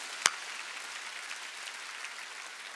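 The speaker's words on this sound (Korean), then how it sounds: "박수 세게 치라니까." A church congregation claps during a Sunday worship sermon, a dense, soft wash of many hands heard from a distance, with one sharp close clap near the start and no talk over it.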